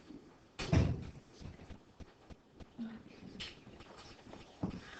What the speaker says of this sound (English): Cameron, can you close the door to the loud people in the hallway?